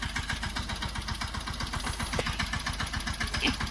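Tractor engine running close by at the cow shelter during maize loading, a steady rapid low chugging pulse with a rattling vibration, continuous and fairly loud.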